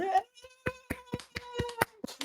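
Several hand claps land in a loose, uneven rhythm, fairly close and crisp, with faint voices chattering around them between the claps.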